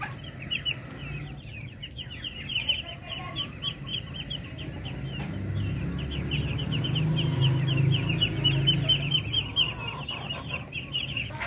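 Darag native chickens on a farm make a steady, moderately close chorus of small clucks and peeps that continues evenly, with faint rustling underneath.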